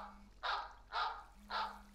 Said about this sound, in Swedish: Den hunden skäller.